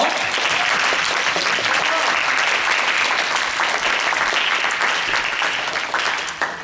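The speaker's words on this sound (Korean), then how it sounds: "앉았다 일어났다 박수 한번 주세요" A church congregation at a Sunday service in Auckland claps in dense, continuous applause that stays loud and even for several seconds, then begins to taper off at the end.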